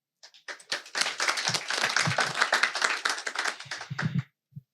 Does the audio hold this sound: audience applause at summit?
yes